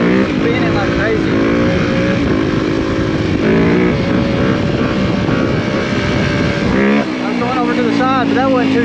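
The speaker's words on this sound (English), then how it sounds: "we're gonna ride some wheelies through here now." A dirt bike revs hard through the woods while riding wheelies, the engine loud and close with rising and falling pitch as the throttle surges, briefly dropping near the end before climbing again.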